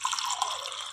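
Water poured from a glass into soaked dosa rice for pundi dough, a steady close trickling splash lasting about a second with no talking.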